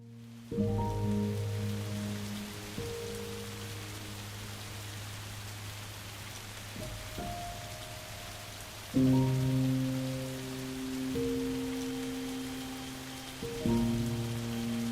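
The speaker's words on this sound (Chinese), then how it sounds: "是下雨了吗？" Rain falls in the video game Tears of Themis as a soft, steady hiss running underneath sustained tonal background music whose chords swell and change several times.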